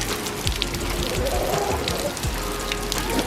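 Water runs steadily from an outdoor faucet in a rural province, a constant close splashing patter with no break.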